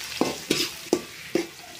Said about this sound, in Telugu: ఇప్పుడు ఉల్లిపాయలు వేసుకుందాం. బాగా బ్రౌన్ కలర్ వచ్చేంత వరకు వేపుకుందామండి.